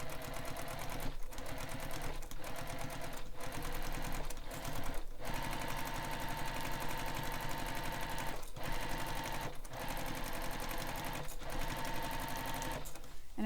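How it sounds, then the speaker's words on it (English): A sewing machine stitching steadily around a curve on a messenger bag, a close, continuous rapid mechanical chatter broken by a few short stops. "I'm just sewing around this curve."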